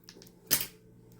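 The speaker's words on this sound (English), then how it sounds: "let me cut a little piece of this off." One quick close snip as a small piece of mounting tape is cut with scissors, a single crisp click in a quiet room.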